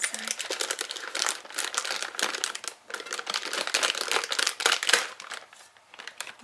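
A plastic bag holding tea bags is handled up close, crinkling and rustling continuously in loud, dense bursts for several seconds, with no talking.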